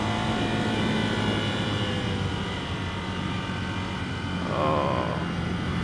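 A 2015 Ducati Scrambler motorcycle engine drones steadily under wind rush and swells louder as it accelerates near the end.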